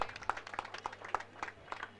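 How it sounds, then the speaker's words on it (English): Scattered hand claps from an audience at a cricket league prize ceremony, a sparse, uneven patter of individual claps rather than a full roar, fairly quiet and steady through the moment. "So have a big round of applause for Chaitanya Parekh."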